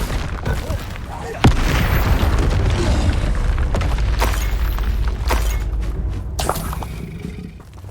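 A Confringo fire spell from the Hogwarts Legacy video game erupts in a loud booming blast, followed by a sustained roaring rumble that fades over several seconds, with sharp cracks scattered through it.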